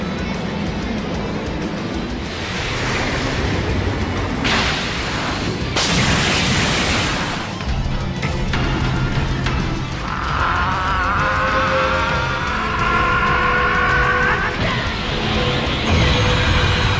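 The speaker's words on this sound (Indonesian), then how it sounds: "Vegeta segera meledakkan kekuatan Super Saiyan-nya yang menyebabkan tempat tersebut menjadi" Dragon Ball Super anime scene of a Super Saiyan power explosion destroying the area, with loud sustained roaring blasts, crashing bursts and a rising whine, continuous and dense with no talk.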